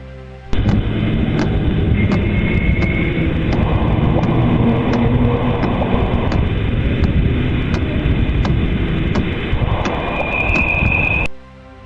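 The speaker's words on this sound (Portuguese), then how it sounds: "o que chamamos de coro cósmico" Continuous dense rumbling roar with crackling bursts and rising tonal swells, a loud, full cosmic-choir composition built from space sounds, sustained for about eleven seconds before fading out at the end.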